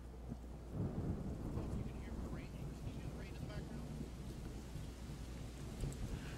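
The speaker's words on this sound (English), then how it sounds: "Can you hear the rain in the background?" Steady rain falling outdoors during a storm, a soft continuous hiss with a distant rumble of thunder underneath, faint and in the background throughout.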